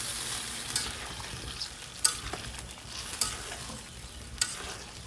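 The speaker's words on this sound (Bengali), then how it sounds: "এখন আমি মাছগুলো দিয়ে দিব" Tengra fish dropped into a hot pan for kalia, giving a moderate steady sizzle with a few sharp clattering stirs and splashes, close and alone.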